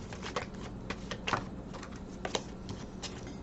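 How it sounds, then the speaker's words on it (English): Tarot cards being shuffled by hand make rapid papery riffles and soft slaps in irregular bursts, close and fairly quiet, without any voice. "I'm going to first shuffle a little bit, cut the cards, and see what comes up for you guys."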